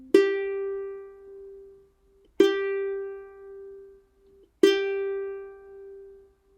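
A single ukulele string is plucked three times at an even pace, each note ringing out clearly and decaying before the next.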